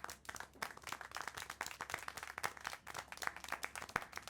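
A small group claps quickly and irregularly in the video game Syberia: The World Before, a quiet patter of applause that continues steadily throughout.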